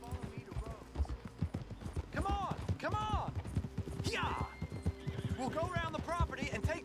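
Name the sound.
horse galloping and neighing in the video game Red Dead Redemption 2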